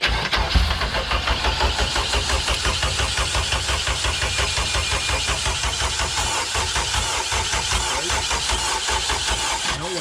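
A car starter motor cranks a K20 engine swapped into a Honda Civic EF hatch, a steady rhythmic churning whir for the whole stretch on a dying battery, the engine never catching, close and loud.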